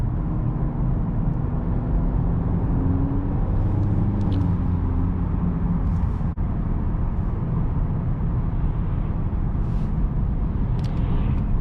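A 2018 Honda Accord Sport's turbocharged engine drones steadily while driving, a low, even cabin rumble with a faint higher pitch riding over road noise.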